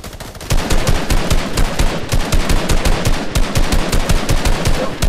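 Rapid machine-gun fire in a video game, a loud, steady stream of sharp shots rattling continuously with no break.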